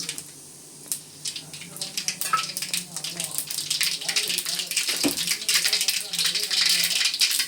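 Mustard seeds crackle and sputter in hot oil in a kadai, a busy sizzling patter that builds and continues beneath a voice talking nearby.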